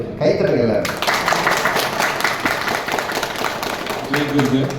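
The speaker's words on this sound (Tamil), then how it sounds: "கைத்தட்டுகள்" A group at an Art of Living session breaks into dense, steady applause lasting several seconds, with voices mixed in.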